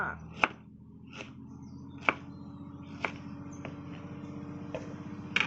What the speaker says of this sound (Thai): มี มะกรูด ขิงแก่ค่ะ หั่นหั่นหั่นเข้าไป